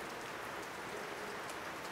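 Steady rain pours down outdoors during a portrait photo shoot, a dense, even hiss of drops on surfaces with no break, moderately loud and close, and no voices.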